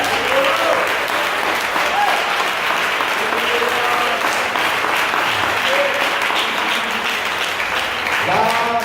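A church congregation applauding together during a worship service, dense sustained clapping filling the room throughout, with faint voices rising beneath it.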